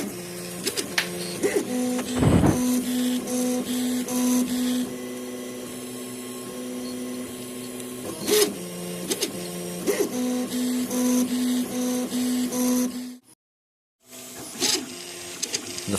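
A Prusa i2 3D printer fitted with new upgrade parts runs its first print, with steady, close stepper-motor whines and buzzing in changing pitched bursts and one brief pause near the end.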